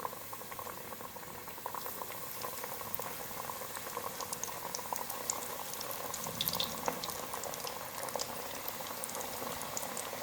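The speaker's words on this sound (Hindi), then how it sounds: "बाकी जो फ़िश के पीस बच गए उसको भी इसी तरह सेम फ्राई कर लेंगे।" Fish pieces coated in gram flour batter fry in hot oil over a medium flame, giving a steady, dense crackling sizzle with scattered pops that continues without any talking.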